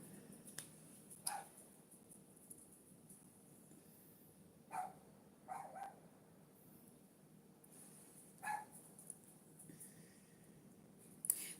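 A dog barks outside in a backyard at nothing in particular, with faint, distant single barks and short clusters coming at irregular intervals over a low, steady background hum.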